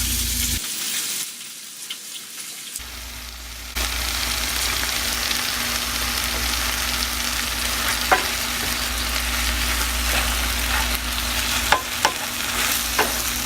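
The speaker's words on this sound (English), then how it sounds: "I'm going to put the bacon over here, just so it can get a little more sizzle to it" Garlic and bacon-wrapped shrimp frying in a pan, a continuous loud sizzle that swells after a brief quieter start, with occasional small pops and stirring clicks, close and alone.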